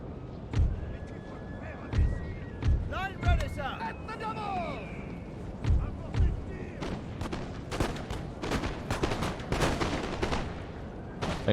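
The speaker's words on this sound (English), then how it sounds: "Canister, fire at will." Cannons firing canister shot in Napoleon: Total War boom in deep, repeated blasts, with crackling volleys of musketry filling the gaps between them. A few voices call out over the din of the ongoing battle.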